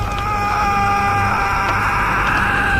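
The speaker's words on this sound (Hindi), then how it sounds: "जंगल की खामोशी को चीरती हुई एक भयानक चीख गूंजी।" A woman's horrified scream in a horror story scene, one loud, sustained, high-pitched cry held steadily for nearly three seconds over a constant background wash.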